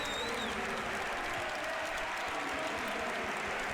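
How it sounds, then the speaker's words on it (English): Crowd applause in the football video game PES 2013, a dense continuous wash of clapping at an even level throughout, with no talk over it. "You can hear the crowd applauding."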